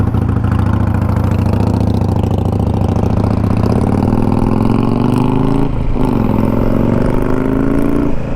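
A loud 2021 Honda Africa Twin DCT motorcycle engine runs steadily, its pitch climbing, dropping briefly at a gear shift, then rising again.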